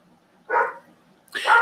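A dog barks twice, a short loud bark followed after a pause by a second sharper bark, close by indoors with no talking.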